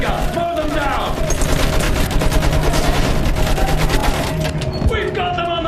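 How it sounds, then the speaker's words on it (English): Machine gun fire from the World War I shooter Battlefield 1 rattles loud and close in sustained rapid bursts, with other gunfire and shouting voices mixed into the battle din. "Use that machine gun! Mow them down!"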